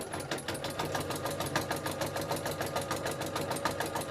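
A sewing machine with a heavyweight jeans needle stitches a fabric journal cover with a bird design, running in a fast, even rhythmic chatter of needle strokes, close and moderately quiet.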